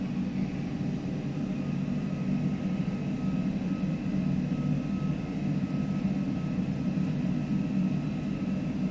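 Aerosoft A330 jet engines in the Prepar3D flight simulator spool up to takeoff thrust, a steady, loud, continuous roar with a low rumble and a faint whine that holds throughout.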